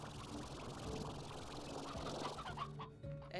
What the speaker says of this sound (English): So I can actually just snatch up some of these briar hens.